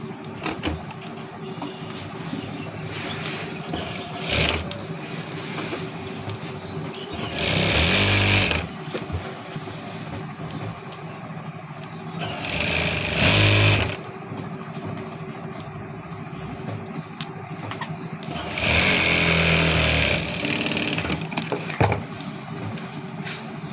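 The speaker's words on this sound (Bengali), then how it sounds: "ডাইরেক্ট বোটেই কামিজের মতো সেলাই করে দিচ্ছি সুন্দর করে" A sewing machine stitches a blouse border in bursts, with loud runs of needle clatter starting and stopping three times between a steady lower motor hum and soft handling sounds.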